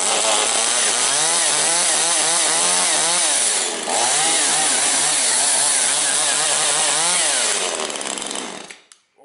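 Cheap chainsaw running after being started, a loud close buzzing engine with the pitch rising and falling as the throttle is worked for about nine seconds before cutting off.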